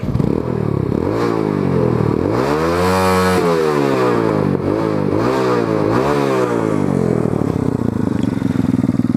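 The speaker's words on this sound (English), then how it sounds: "This is what it sounds like with me revving it up." A Venom X22 (Xpro X16) motorcycle engine revs repeatedly up and down, its exhaust roaring close and loud with rising and falling pitch.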